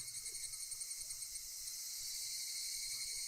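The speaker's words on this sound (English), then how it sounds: "You will hear that specific kind of cicada a lot in anime and specifically in Higurashi." A played recording of a Japanese cicada keeps up a dense, unbroken, high-pitched buzzing drone with a faint pulsing rhythm, steady and moderately loud throughout with no voices.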